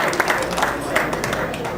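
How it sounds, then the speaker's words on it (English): Applause from an audience at a lifetime achievement award ceremony, a steady patter of clapping with a few voices mixed in, moderately loud and continuous. "let's give him a nice round of applause here for doing this"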